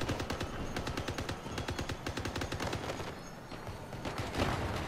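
Rapid gunfire in the vehicle combat game Crossout, a fast rhythmic string of sharp shots that thins out midway and then resumes, with heavy engine rumble underneath.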